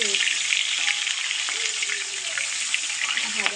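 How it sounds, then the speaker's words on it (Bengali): Fish sizzles steadily in hot oil in a home kitchen, a dense continuous crackle with small pops throughout, close and fairly loud, with no talking. "আমার না একটু ভয় লাগে মাছ ভাজতে"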